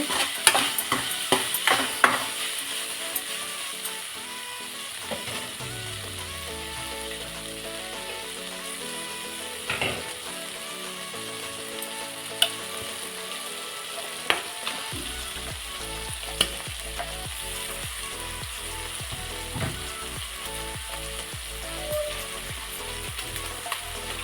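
Liver frying in a pan with masala and being stirred, a continuous sizzle broken by sharp scraping and clinking strokes of the spoon against the metal, with no talking.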